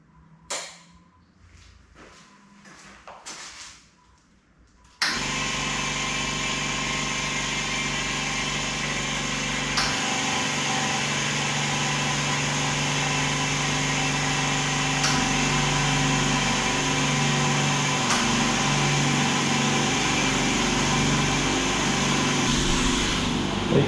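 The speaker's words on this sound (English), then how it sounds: "we're just going to turn it on and test it and see what she's like" A Silent Chicago Hush 150 air compressor, four units, kicks on after a few seconds of faint handling clicks, then holds a loud, steady motor drone with periodic soft thumps, close and unbroken.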